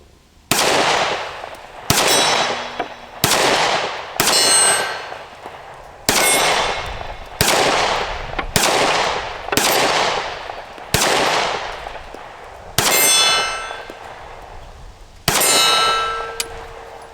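A Taurus GX4 pistol fires about a dozen shots at a steel target, each one loud and close with a sharp crack and a ringing clang that decays before the next, spaced roughly a second or more apart.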